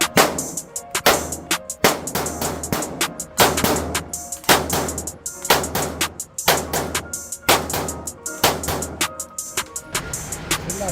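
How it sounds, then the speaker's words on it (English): SAR 2000 rifle fired repeatedly at a shooting range, loud close gunshots in a steady series of sharp cracks with brief echoing tails. "We're gonna shoot the SAR 2000."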